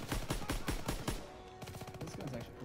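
Rapid automatic gunfire from a Call of Duty WWII match rattles off in a quick burst of sharp, evenly spaced shots at close range, then fades into softer game noise.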